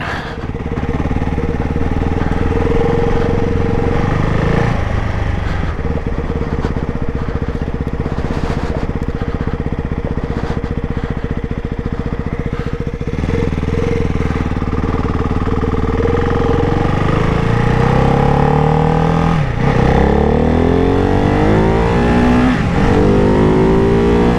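A Ducati Hypermotard 698 Mono single-cylinder motorcycle in sport mode drones loudly and steadily as it is ridden, its engine pitch rising and falling through gear changes near the end. The exhaust sits close and fills the whole passage, with no speech.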